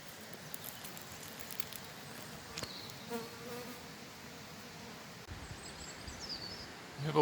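Honey bees buzz steadily at a home apiary in Snowdonia. The droning hum is soft and continuous, with individual insects passing close now and then.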